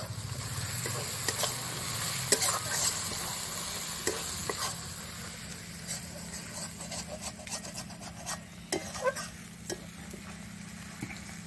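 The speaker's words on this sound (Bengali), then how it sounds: "লঙ্কার গুঁড়ো দিয়ে দিচ্ছি, দিয়ে একটু কষিয়ে নেব ভালো করে।" Homegrown rooster chicken curry with new potatoes frying in a pan as chilli powder is added: a steady sizzle carries on throughout, with scraping stirring strokes and light clinks against the pot.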